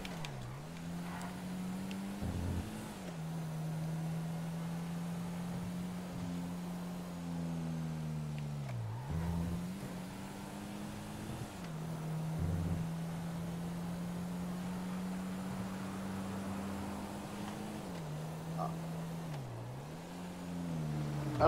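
Steady engine drone of a car driving in FiveM, the GTA V roleplay game, holding a mid-pitched hum that dips briefly as the car shifts or slows, running continuously with no talk.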